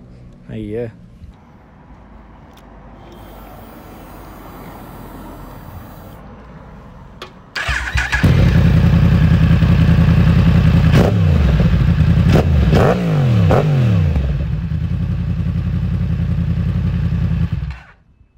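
A Yamaha MT10 motorcycle engine starts and runs, revving loudly with sharp throttle blips over a steady roar, with faint talk beforehand.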